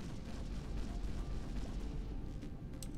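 Spaceships exploding in the space game Kinetic Void: a steady, muffled rumble of booms and pops, fairly faint and without any talking.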